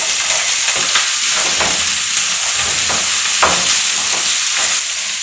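Sliced onion dropped into hot oil for liver and onions, crackling in a loud, dense, continuous sizzle with scattered sharper pops and a few light stirring knocks, heard up close.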